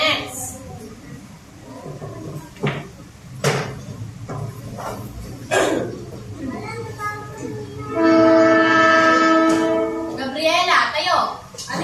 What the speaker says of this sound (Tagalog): Yun po ay tunog ng isang tren